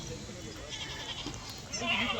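Goats bleat several times amid a busy crowd at the weekly goat and sheep market in Loni, with people talking close by.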